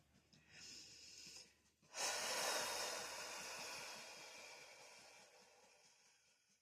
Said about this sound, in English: I'm just going to take a couple deep breaths.